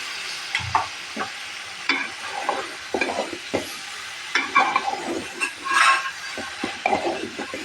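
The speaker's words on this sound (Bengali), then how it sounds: "এখন আমি মশলাটা কষিয়ে নিই" Spice paste sizzles in oil in a pan as cucumber is added, with frequent stirring, clinks and scrapes of a utensil against the pan, loud and close.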